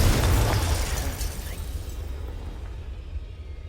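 A Confringo blasting spell goes off in the Hogwarts Legacy video game: a loud, booming burst that rumbles heavily at first and then slowly fades over a few seconds, with no talking.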